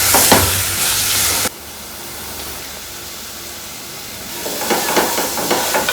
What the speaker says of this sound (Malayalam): നല്ലപോലെ ഒന്ന് വഴറ്റിയെടുക്കണം.